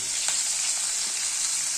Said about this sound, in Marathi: आता आपण हिरवी मिरची कुरकुरीत तळून घेऊ